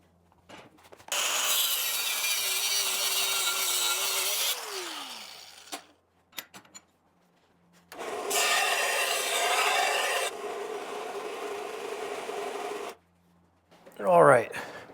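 A gear shifter rod for a 1960 Auto Union 1000SP is cut to length with a saw, with two long scraping stretches of strokes separated by a pause, close up, and brief knocks and handling sounds between them.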